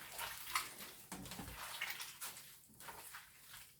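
Hands rinsed under a running tap in a kitchen, a soft, fairly quiet wash of flowing water with splashy rubbing that varies in strength.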